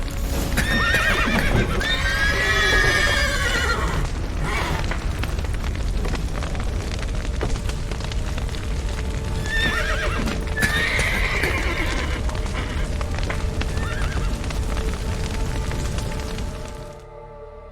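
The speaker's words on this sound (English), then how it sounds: "The horses!" Horses in The Witcher 3 neigh and whinny loudly over steady galloping hooves, with a rumbling, explosive din of a collapsing roof behind, all fading out near the end.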